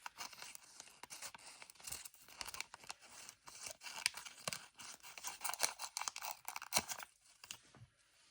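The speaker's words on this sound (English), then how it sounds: "I might have to use my scissors." Scissors cutting card stock for a handmade Valentine's shaker card, a quiet run of irregular snips and papery crinkles up close, with brief pauses between cuts.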